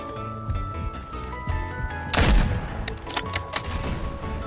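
Gunfire in the mobile and PC military shooter Delta Force: Hawk Ops, a sudden loud burst followed by several sharp scattered shots over game music.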